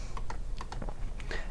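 Small sharp clicks at a computer, several quick taps in pairs and singles, close and fairly quiet over a steady low background hum.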